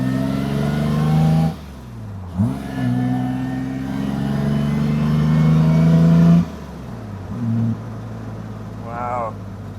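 Austin Healey 3000 works car with SU carburetors, its engine revving hard in two long sustained bursts with a blip between, loud and close, a brief lull separating them and a short voice near the end.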